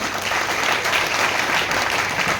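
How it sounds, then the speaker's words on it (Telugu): Sustained loud applause from an audience at a business team event, dense steady clapping filling the whole stretch with no break. "ఒకసారి అందరికీ గట్టిగా క్లాప్స్ ఇద్దాం"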